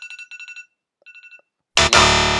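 A game alarm on a podcast: bursts of bright electronic beeping in two rhythmic groups separated by a pause, then a loud harsh buzzer blast cutting in near the end.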